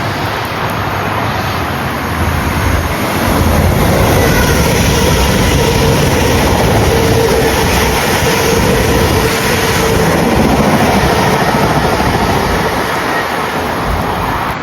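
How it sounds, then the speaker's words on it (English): A non-stopping train runs through the platform at Beaulieu Park Station, giving a loud, steady rumble and wheel roar that holds close for the whole pass, swelling slightly midway, with no voices. "there's a train coming on platform 1 as well, I think. Yes, here it comes. Another non-stopping service."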